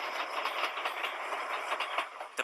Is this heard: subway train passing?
yes